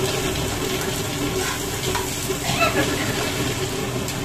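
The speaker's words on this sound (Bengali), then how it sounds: "আলু ভাজা করি" Sliced potatoes frying in hot oil give a steady, dense sizzle throughout, with a few faint clinks of a utensil near the middle.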